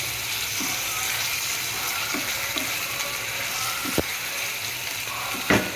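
Masala sizzling in hot oil while being sautéed for a quail curry, a steady close frying hiss that continues throughout with a few brief clinks near the end.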